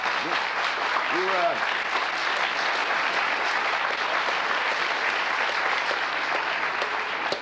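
Studio audience applause fills The Tonight Show Starring Johnny Carson set in 1972, a dense, even wash of clapping that holds steady throughout, with a brief voice near the start.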